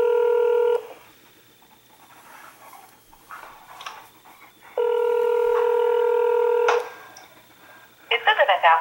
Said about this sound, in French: Et je l'appelle immédiatement.